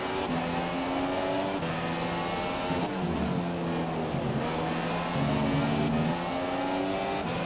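A Ferrari race car engine in the F1 2017 game wails steadily at high revs, its pitch dipping and climbing as the car slides through corners, loud and continuous with no pause.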